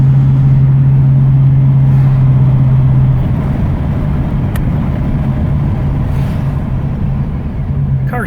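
A 1934 Chevrolet all-steel touring car drives along, its engine a steady low drone with a sustained hum for the first few seconds, continuing loud and close throughout with no talking.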